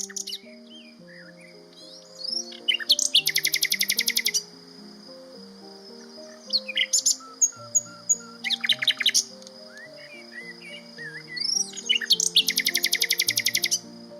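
A common nightingale sings in repeated bursts of rapid, buzzing trills and sharp whistles, loud and close, separated by short pauses, with soft melodic music playing steadily underneath.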